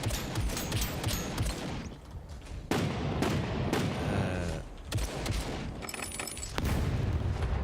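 Bursts of gunfire with basic bullets in SCUM, repeated heavy shots and volleys in uneven clusters, loud and close, with brief lulls between.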